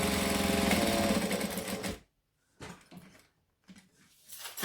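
A domestic sewing machine runs a 2.5 stitch-length joining seam on a bag, whirring loudly and continuously for about two seconds, then stops. Shorter, quieter bursts of stitching and handling noises follow after pauses.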